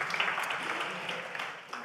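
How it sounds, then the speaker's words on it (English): A university student-life event audience claps for a symphony orchestra and its conductor, a brief, dense burst of applause that stays fairly even and close before easing off slightly at the end. "Let's give a round of applause to our Symphony Orchestra and Janne."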